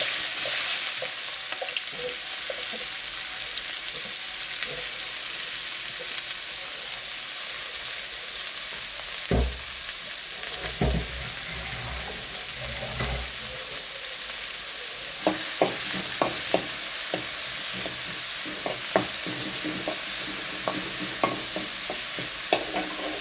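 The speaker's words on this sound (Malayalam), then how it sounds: "നമ്മൾ പച്ചമുളക്, വെളുത്തുള്ളി, ഇഞ്ചി, ഉള്ളി എല്ലാം കൂടെ ചതച്ചത് ഇതിലേക്ക് ഇടും." Crushed green chili, garlic, ginger and onion fry in a pan, a steady soft sizzle running throughout with occasional scraping stir sounds and clinks, no voices.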